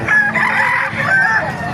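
A rooster crows loudly and close by in one drawn-out call, with other fowl sounds faintly behind it.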